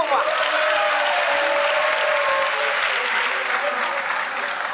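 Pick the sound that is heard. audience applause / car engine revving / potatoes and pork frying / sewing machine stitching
audience applause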